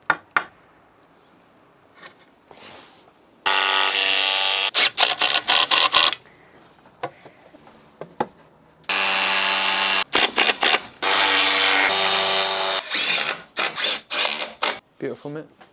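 An SDS hammer drill bores into masonry while a 1930s house window is being fitted, running in two long loud bursts with stop-start pulses and short blips between, preceded by quieter moments.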